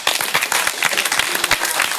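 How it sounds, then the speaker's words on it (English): A support group gathering at Racing For Recovery gives its staff a round of applause: dense, close, crisp clapping from a room of people, steady and loud for about two seconds. "one more round of applause for our awesome staff here."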